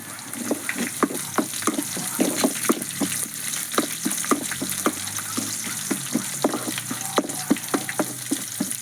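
Ginger, garlic, coconut bits and green chilli fry in a hot pan with a steady sizzle, punctuated by frequent sharp crackles and stirring clinks, close and continuous.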